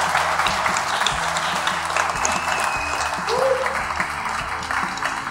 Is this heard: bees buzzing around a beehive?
no